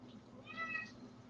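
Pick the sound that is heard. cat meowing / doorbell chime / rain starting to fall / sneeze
cat meowing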